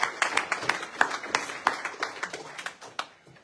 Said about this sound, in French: On va applaudir ça.